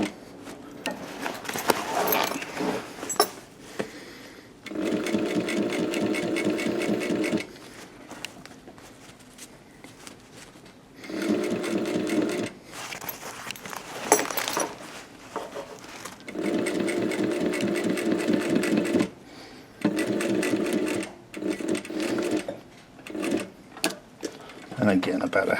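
An industrial sewing machine stitches a BOC pocket onto skydiving gear in several loud, fast bursts of a few seconds each. Quieter handling pauses separate the bursts, and a person talks between them.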